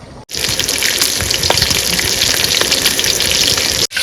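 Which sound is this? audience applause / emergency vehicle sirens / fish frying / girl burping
fish frying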